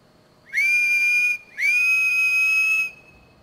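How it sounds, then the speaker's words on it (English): Two sustained whistle tones in modded Skyrim, clear and fairly loud, the first short and the second longer, each starting with a quick upward slide. "Remember the days when I didn't know how to whistle?"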